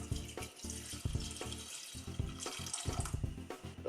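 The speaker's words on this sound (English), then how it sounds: "Add enough water just to cover the meat." Water runs from a tap and pours over beef in a stock pot, a continuous splashing, gurgling stream with uneven surges, close by and with no voices.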